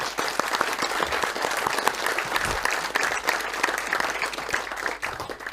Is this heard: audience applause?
yes